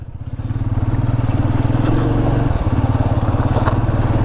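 Royal Enfield Meteor 350 Supernova motorcycle riding, its single-cylinder engine thumping loudly and steadily up close, with a brief dip in pitch partway through and no voices.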